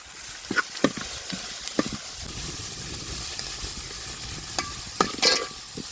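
Onions and finely chopped beans sizzle steadily in a hot pan for vegetable cutlets, with occasional scrapes and knocks of a spoon stirring them; no one speaks.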